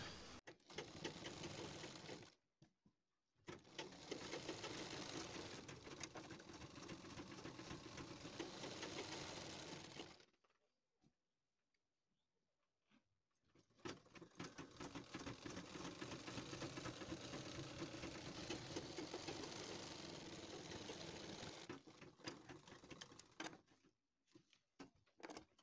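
A sewing machine runs a straight line of top stitching over a half collar in three long runs of steady rapid clatter, split by short stops and one longer quiet gap.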